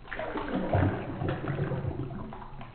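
Cazadores silver tequila pours into a measure with a soft, close liquid gurgle and splash lasting a couple of seconds.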